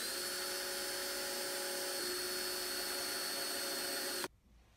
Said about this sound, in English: I used a 3/32 inch bit to drill pilot holes for the wood screws